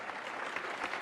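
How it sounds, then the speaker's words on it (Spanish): A brief, steady wash of applause from an audience at a government event in Michoacán, Mexico, a crowd of hands clapping together at a distance with no pause. "Un aplauso al sector productivo de Michoacán."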